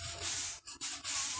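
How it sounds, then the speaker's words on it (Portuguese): A small spatula scrapes along the damp wooden slats of a sheep pen floor, giving a steady close rasping with two brief pauses as the blade lifts and resets. "depois eu venho com a espátulazinha raspando as taubas"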